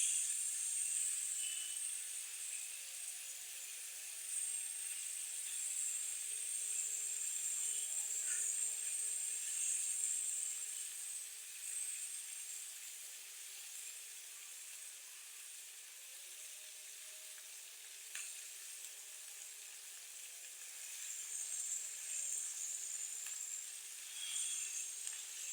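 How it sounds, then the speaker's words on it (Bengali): Fish lightly frying in oil, a faint, even hiss of sizzling that carries on steadily without pause, quiet and close, with no talking. "আমি মাছটা হালকা করে ভেজে নেব।"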